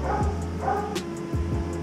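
A small dog, a Shih Tzu, gives a few short, close yips and barks amid indoor background noise.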